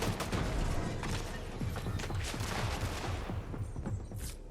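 Rapid, dense gunfire in a competitive shooter video game, a continuous loud barrage of overlapping shots and mechanical clatter without pause.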